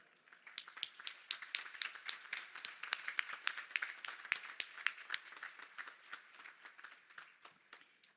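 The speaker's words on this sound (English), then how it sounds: "Please join me in a round of applause to thank all of those who were with us on the" Applause from a commencement ceremony audience: crisp, fairly close hand claps from a modest crowd, irregular and sustained for several seconds, heard alone without speech.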